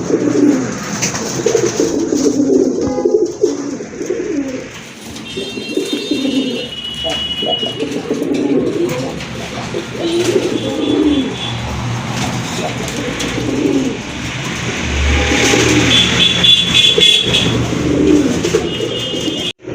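Pigeons, including a large dun-coloured female, coo in repeated low burbling phrases close by, with short pauses between bouts and a few higher thin sounds in the background.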